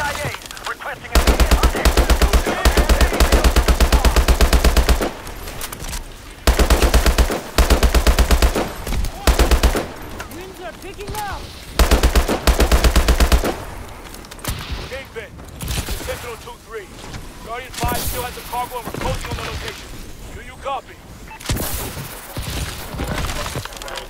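Heavy automatic gunfire from Call of Duty: Advanced Warfare, loud and close in long sustained bursts separated by short gaps, then giving way to scattered shots and a busier mix of combat noise.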